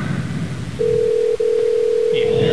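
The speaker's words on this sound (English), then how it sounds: "if you get voicemail, just hang up and we'll try Faye right away" A telephone tone plays while a call is being placed: a single steady electronic tone comes in partway through and holds to the end, with a brief dropout in the middle and a murmur of room sound underneath.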